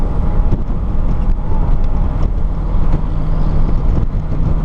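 A 1951 Ford Deluxe two-door Tudor sedan on the move, its steady low engine rumble and road noise mixed with wind buffeting, continuous and close from start to finish.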